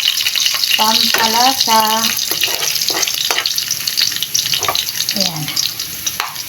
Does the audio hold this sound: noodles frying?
yes